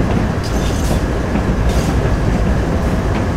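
Large locomotives coupled in multiple roll slowly through a narrow oil depot yard in Train Sim World, giving a steady, loud rumble of wheels on rail with faint clicks and light hissing.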